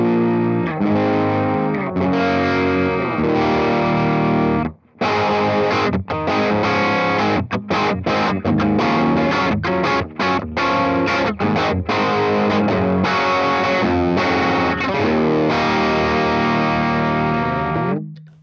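An electric guitar on its bridge humbucker plays through an overdriven Morgan AC20 amp, giving dense distorted chords and riffs that ring loud and close throughout, with one brief break near the start.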